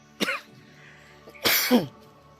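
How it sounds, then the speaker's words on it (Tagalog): Two separate coughs from an itchy throat, one short and one harsher and longer, close by with a quiet pause between them. "yung ubo ko at kumakati kasi itong dito ko tol, ubo ko."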